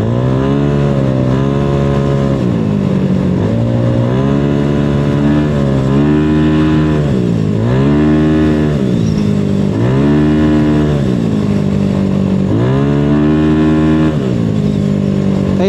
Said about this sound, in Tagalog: Yun pa lang ang full throttle niya.